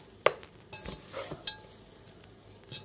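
Chicken pakora ingredients with coriander powder, salt, chili, turmeric and masala powders are mixed in a bowl, giving soft stirring scrapes and a few clinks against the bowl. The sounds are close and fairly quiet, with no talking.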